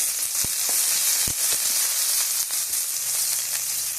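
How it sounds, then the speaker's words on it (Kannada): Onions and curry leaves deep-frying in oil in a pan make a loud, constant sizzle with scattered pops and crackles throughout, no voices. "ಸ್ವಲ್ಪ ಕರಿಬೇವನ್ನು ಕೂಡ ಹಾಕಿ ಸ್ವಲ್ಪ ಹೊತ್ತು ಈರುಳ್ಳಿಯಲ್ಲಿ"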